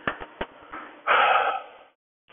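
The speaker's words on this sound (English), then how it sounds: "You can hear me breathing even." Close breathing captured by a Bluetooth mic worn on the neck: a few short puffs and sniffs, then one longer, louder exhale before quiet, with no talking.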